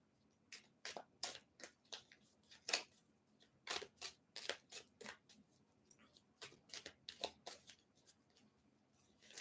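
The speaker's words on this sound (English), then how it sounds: "Let me shuffle these real fast." Tarot cards are shuffled by hand in quick bursts, each a crisp riffling flutter, repeated about twenty times in an uneven rhythm with short pauses, close and clear with no talking.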